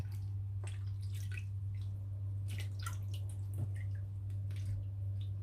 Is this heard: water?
yes